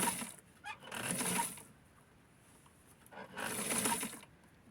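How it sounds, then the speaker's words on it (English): A sewing machine stitches the top edge of a shirt collar in two separate bursts of steady, fast whirring stitching, close and moderately loud, with a quiet pause between them. "I'm going to sew on the top, which is going to give it more of a resistance"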